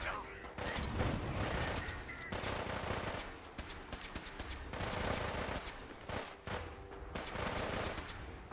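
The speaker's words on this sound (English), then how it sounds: "That sounds like a Mr. Gutsy." Mr. Gutsy robot gunfire in Fallout 4: rapid automatic bursts in several rattling volleys with brief gaps, loud and continuous, with a voice talking over parts of it.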